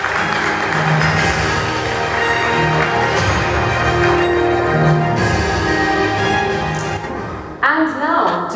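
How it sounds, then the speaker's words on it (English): A stage event audience applauds, a loud dense wash of clapping that carries on steadily and thins near the end, with a few sharper claps and some voices mixed in. "Big round of applause, please."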